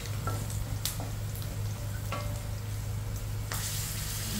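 Garlic, onion and tomato sautéing in a pan, with steady close sizzling and a few sharp clinks of a utensil stirring against the pan.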